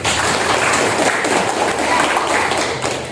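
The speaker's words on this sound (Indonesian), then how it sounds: "tepuk tangan untuk Pak Reti" Classroom applause for Pak Reti during a teaching practice session, a steady dense patter of hand clapping lasting throughout, fairly loud and close with no talk over it.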